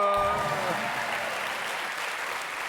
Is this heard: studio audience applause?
yes